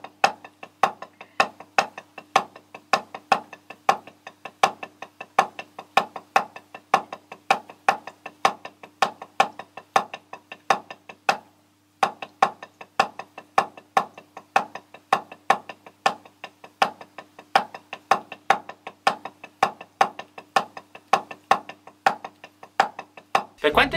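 Single-stroke snare exercises from the Accent & Rebound drum book, played as a steady, evenly spaced stream of crisp strokes with a brief pause near the middle before the pattern resumes.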